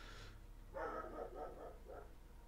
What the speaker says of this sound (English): And Star is barking again.